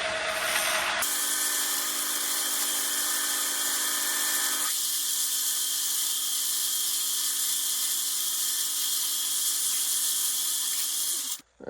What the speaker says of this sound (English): Just got this rotary Brillo pad on the drill press